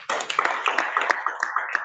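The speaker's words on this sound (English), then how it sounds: "Please clap for her." Audience applause at a NECA job and employability fair in 2024, welcoming the director: a steady patter of many hands clapping at moderate loudness, with individual sharper claps standing out, sustained without talk.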